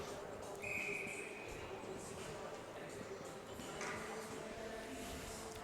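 A referee's whistle blows once, short and sharp, at an under-16 AAA ice hockey game. It rises over steady arena crowd noise and echo.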